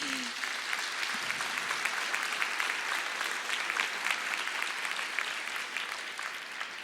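Worship congregation applauding together, a dense, sustained burst of many hands clapping that fills the room at steady volume throughout, with a brief voice tone at the very start.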